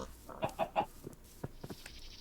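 Chickens in modded Minecraft give a few short clucking calls in quick succession near the start, followed by fainter scattered game sounds.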